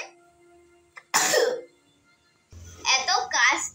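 A child coughs once, a short rough burst with some throat-clearing quality, followed by a pause and then a voice speaking.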